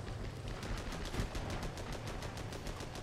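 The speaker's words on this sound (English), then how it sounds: "why are you shooting your cannon at him?" Rapid, steady volleys of gunfire from a WWI tank in the action-strategy game Armored Battle Crew, sharp repeated cracks about five per second, loud and continuous throughout, with no talking.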